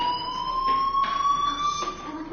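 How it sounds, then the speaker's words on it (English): A video game fire alarm sounds as a steady, piercing electronic tone that holds continuously with a slight waver, over faint background noise. "Hey, do you hear that fire alarm?"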